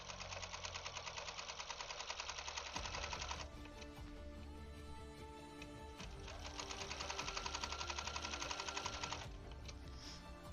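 Sewing machine stitching through a Seahawks quilt, running in long continuous bursts of rapid needle chatter with a short slower, knocking stretch between them, loud and close, no voices.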